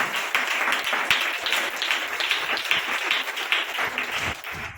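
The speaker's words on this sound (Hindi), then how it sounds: "ताली बजाओ" Crowd applause at a church gathering, dense steady clapping from many hands filling the space, moderately loud and continuous with no talk over it.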